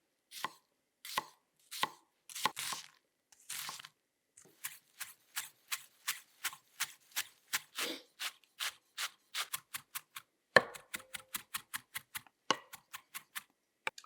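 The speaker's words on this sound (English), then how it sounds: "So for this recipe, it's dicing onions, chopping herbs, cracking some eggs, grating some cheese, and scaling some ingredients out." Knife chopping onions and herbs on a cutting board while preparing Käsespätzle, a run of crisp taps that start irregular and spaced, then settle into a fast, even rhythm, close and clear with no talk.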